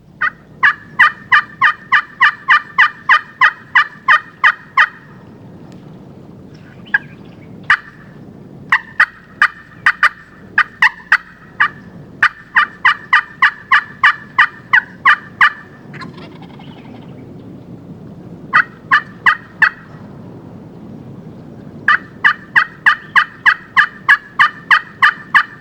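Wild turkey toms gobbling in spring, repeated bursts of rapid rolling calls in clusters with short pauses between them, loud and fairly close in an outdoor setting, with no talk.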